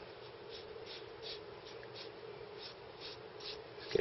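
Pencil sketching on paper, a steady soft scratching with faint periodic strokes repeating about every half second, close and quiet with no talk.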